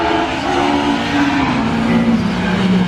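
Saloon race cars pulling away at the start of a CSCC Special Saloons and Modsports race at Cadwell Park in 2021, a loud continuous engine roar with rising revs, sounding close and steady throughout.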